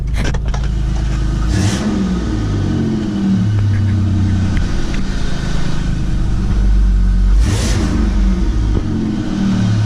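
Car engine with a custom homemade fenderwell cold air intake revving up loudly and close, with a deep rumble, two sharp throttle blips standing out and a faint whistle riding over the engine drone.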